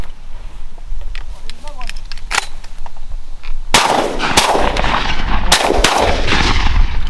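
Shotgun blasts ring out during a mourning dove hunt outdoors, with one sharp report early, then a louder cluster of several booming shots close together, set against steady background noise.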